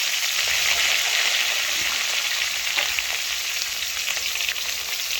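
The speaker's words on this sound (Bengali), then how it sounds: "ঝিঙেগুলো তেলের মধ্যে দিয়ে দিলাম।" Sliced ridge gourd fries in hot oil with panch phoron and cumin, a steady bright sizzle that carries evenly throughout with a faint scrape of stirring near the end.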